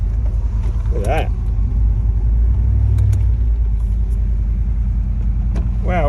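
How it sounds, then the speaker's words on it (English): A car engine idles smoothly without the choke after a fuel filter fix, a steady, even low rumble that stays constant throughout while someone talks over it. "that seems to be running pretty nice. It's even running without the choke."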